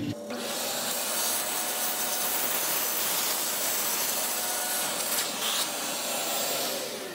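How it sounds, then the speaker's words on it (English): A shop vac sucks ash out of the holes of a Harman pellet stove during an end-of-season cleaning. The airy roar is steady and loud and runs for the whole stretch with no talk. "I recommend taking your shop vac or whatever and trying to suck them out as good as you can"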